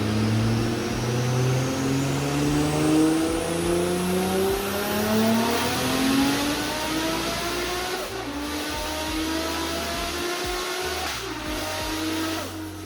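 An Audi B7 S4 with a tuned 2.7-litre twin-turbo V6 revs hard on a dyno, the loud engine note climbing steadily in pitch through repeated pulls with no talk.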